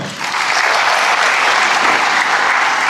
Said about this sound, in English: Please give a round of applause to Ian.